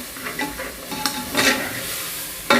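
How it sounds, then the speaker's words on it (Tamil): Spice masala and tomatoes sautéed in a pan for Muslim-style mushroom biryani, with a steady soft sizzle and several spoon-scraping stirs, ending in a louder clatter. "ஆட் பண்ணிவிட்டு லைட்டாக ஒரு வதக்கிக்கலாம்."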